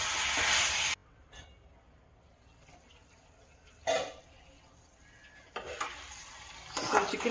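Chicken pieces with ginger garlic paste sizzle in hot oil, with bursts of stirring and clattering of a spoon against the pan between quieter stretches of low frying noise, close and moderately loud.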